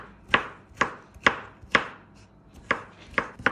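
A knife chops fresh zucchini into small pieces on a cutting board in a home kitchen, with seven crisp, evenly spaced strikes close by and no talking.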